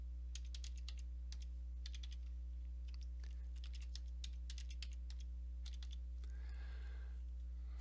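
A password is typed on a computer keyboard in quick bursts of close, crisp keystrokes over a constant low electrical hum, ending with a brief rustle.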